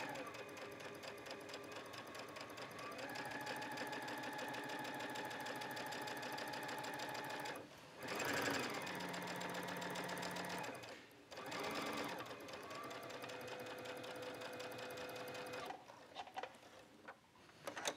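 Sewing machine running a long basting stitch along a tee shirt edge about a quarter inch in, steady fast needle chatter for several seconds, a brief pause and restart, then trailing off near the end.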